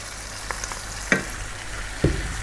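Fresh tomatoes with cumin and chili powder sizzle in a pot over medium heat, a steady close frying hiss punctuated by a few stirring clinks and knocks.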